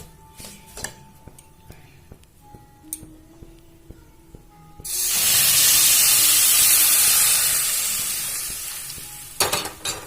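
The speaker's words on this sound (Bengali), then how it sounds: "ভাজা হয়ে এসেছে আমি এবার এর মধ্যে জল দিয়ে দেবো" Water poured into a pan of frying semolina sets off a loud, sustained hissing sizzle that slowly fades, after a stretch of light scraping and clinking before it and a few sharp utensil knocks at the end.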